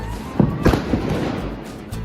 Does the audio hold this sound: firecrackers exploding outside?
yes